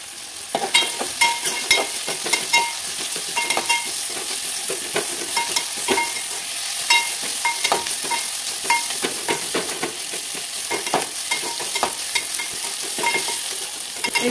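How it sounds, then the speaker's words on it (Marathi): Onions frying over a low flame and being stirred in a pan for masala rice, a continuous crackling sizzle punctuated by frequent sharp scraping and clinking strokes of a spoon, close and busy. "कांदा आपण चांगला लाल होईपर्यंत भाजायचे"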